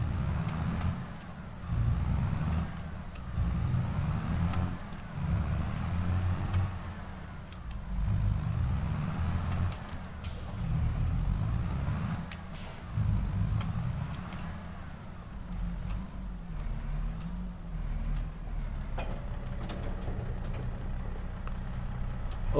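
Low, steady engine rumble of a farm vehicle reversing in Farming Simulator 22, droning continuously without pause, with faint ticking clicks on top.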